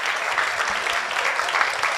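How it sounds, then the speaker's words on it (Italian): A brief burst of audience applause at a university student award ceremony in Catania, dense, even clapping from many hands, fairly loud and sustained throughout. "Un applauso per Jacopo"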